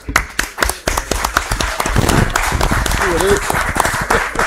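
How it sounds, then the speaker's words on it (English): A crowd at a township meeting claps and applauds, a dense run of sharp claps that builds and continues steadily, with voices faintly mixed in. "How about a round of applause for Lee?"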